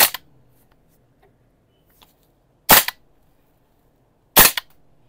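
A GHK DD MFR gas blowback airsoft rifle fires three sharp, loud cracks, each with a brief mechanical clack of the bolt cycling, spaced well apart with near silence between them.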